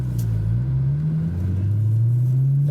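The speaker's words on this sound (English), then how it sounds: "you can hear that supercharger whine" Supercharged BMW M3 E92 with an ESS Stage 3 kit, its engine droning steadily with a rising tonal whine as the car pulls, heard from inside with no talking.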